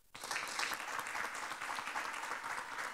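Applause greeting newly sworn municipal officials at a San Pedro de la Paz council session, a thick, even burst of crowd clapping that starts abruptly and continues steadily throughout.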